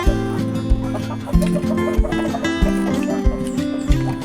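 Chickens cluck near egg-laying nests in a backyard farm, a dense continuous clucking with some loud, close calls and a steady low hum underneath.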